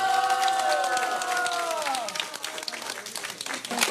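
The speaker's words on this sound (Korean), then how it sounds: "환호성이 터져 나옵니다" Cheering and applause from a crowd of national team athletes at their training village as the vice minister of culture and sports arrives. Rising excited shouts with sliding voices blend into clapping and lively chatter.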